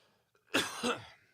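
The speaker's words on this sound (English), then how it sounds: "That was a cough." A single close cough, a sharp burst followed by a second rougher push, in an otherwise quiet room during a live talk show.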